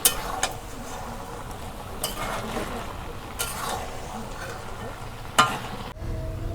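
Mango pieces and taro leaves fry in a pan while being stirred, a soft sizzle broken by several sharp scrapes and knocks of the spoon, ending abruptly with a low hum.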